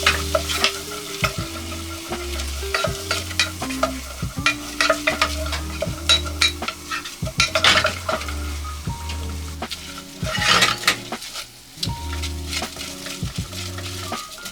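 Flour being stirred quickly into melted butter to start a roux for sauce espagnole, the pan sizzling softly while the utensil scrapes and taps in a steady, busy rhythm close by.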